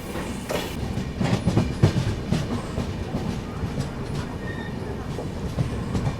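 A Humsafar Express train rolls through Murtizapur junction without stopping, heard from aboard as a continuous rumble with rhythmic clickety-clack of wheels over rail joints and occasional faint squeals, moderately loud and steady.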